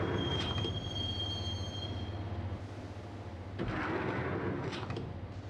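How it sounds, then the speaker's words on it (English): A train in the video game Max Payne rumbles steadily along the tracks, a thin metallic squeal ringing over the low rolling noise, then a brief rush of louder clatter. "the train doors had already shut behind me, and I was in for the ride"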